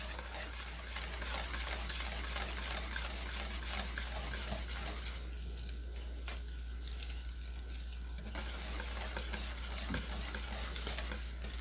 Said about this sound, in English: Stir this in really well.